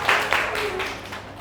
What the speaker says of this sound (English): a big round of applause for your friend